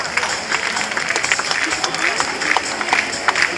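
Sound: crowd applauding in the bullring arena

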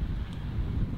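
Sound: wind blowing on golf course

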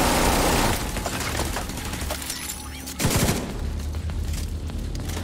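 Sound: turret firing in The Division 2 video game

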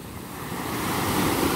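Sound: waves crashing on the West Sea beach

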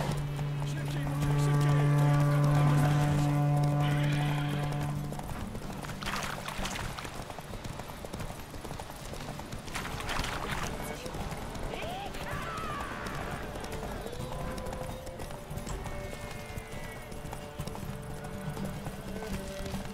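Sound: horse hooves galloping in video game The Witcher 3

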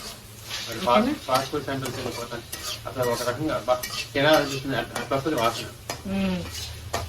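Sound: ginger garlic frying and stirring in pan for chicken fried rice

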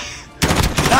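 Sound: gunfire in Call of Duty Warzone video game

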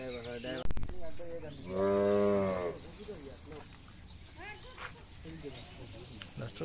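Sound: cattle mooing while being loaded into a truck

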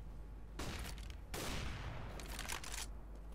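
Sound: flashbang grenade thrown in the video game CS:GO

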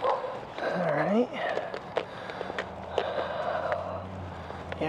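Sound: dogs barking on a walk

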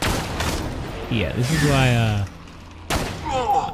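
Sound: gunfire from skeletons attacking in the video game Borderlands 2

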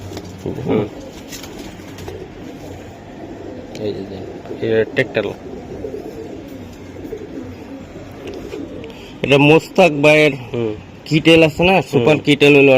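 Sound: pigeons cooing

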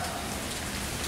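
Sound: rain falling

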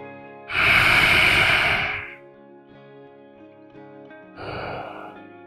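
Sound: slow deep breathing in child's pose during yoga

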